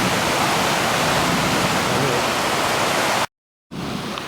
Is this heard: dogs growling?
no